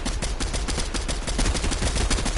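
Rapid bursts of video-game gunfire crackle in a dense, continuous volley, loud and close, with no talking.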